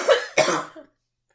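Two quick, harsh coughs from a person in close succession, followed by a short throaty trailing breath, then silence.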